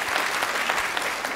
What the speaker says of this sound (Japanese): それでは皆さん拍手でお願いいたします。